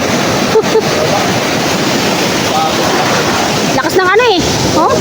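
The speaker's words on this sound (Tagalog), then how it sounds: "Malakas yung alon." Strong ocean waves on a shore give a loud, constant rushing roar with wind buffeting the microphone, while people talk and call out over it.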